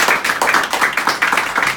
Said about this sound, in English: can we give the developer Tribert a big round of applause